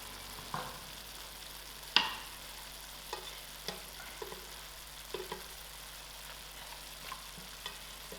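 Lamb chops frying in a pan over reduced heat, a steady low sizzle with occasional sharp pops and clinks spaced through, fairly quiet and with no talking.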